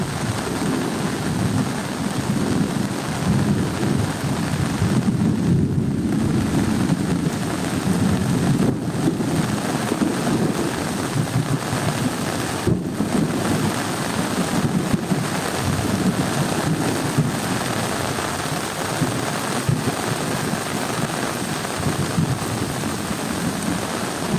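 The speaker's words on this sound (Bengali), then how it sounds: "প্রচুর পরিমাণে বৃষ্টি হয়েছে" A long, steady downpour of heavy rain by a riverbank during a lightning storm, with low thunder rumbling underneath and occasional wind buffeting the microphone.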